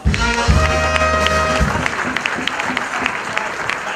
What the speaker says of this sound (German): Und Applaus!